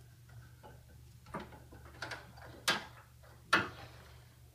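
An old bathroom sink drain stopper being unscrewed during a faucet replacement: scattered small metallic ticks and scrapes, with two sharper clacks near the end, all up close with no talk.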